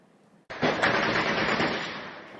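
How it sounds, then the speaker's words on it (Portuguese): A rapid burst of automatic gunfire erupts after a brief quiet moment and continues steadily, loud and echoing, with no voices, during an intense shootout in hilltop communities in Rio. "dá para ouvir o barulho dos tiros disparados no alto do morro"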